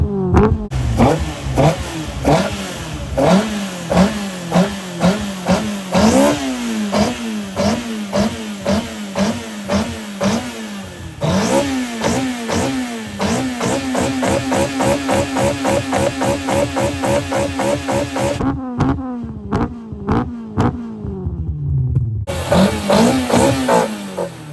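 A Toyota Trueno with a twin-outlet exhaust revs again and again, each loud near blip rising and falling in a fast rhythm, with a short lull before the revving starts up once more.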